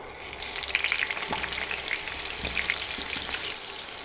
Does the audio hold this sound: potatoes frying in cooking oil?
yes